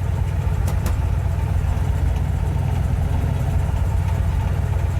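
A car engine idles steadily on a hot day, an engine that loses power and dies when hot. It gives a constant low rumble with no revving, and two faint clicks come early on.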